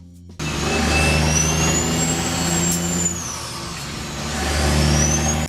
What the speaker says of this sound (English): The truck's engine sound was enhanced to emphasize its power and personality.